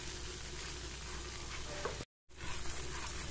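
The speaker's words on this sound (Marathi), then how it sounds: "आता व्यवस्थित असं मिक्स करून घेते" Masala for matar paneer sizzles softly as it is stirred in a pan, a steady faint frying hiss broken by one brief dropout.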